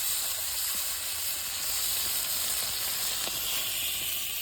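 Fish frying in a wok of oil over an outdoor wood fire, an even close hiss and sizzle with a few soft pops and clicks, continuous throughout and no one talking.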